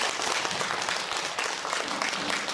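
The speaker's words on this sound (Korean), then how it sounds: "힘찬 박수 보내주시기 바랍니다" An audience at a filial-piety instructor selection event gives a vigorous round of applause, dense, even clapping that stays loud throughout.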